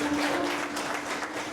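A church congregation claps for Jesus during a Portuguese-language service, producing a brief, fairly soft wash of applause with a faint tonal hum underneath.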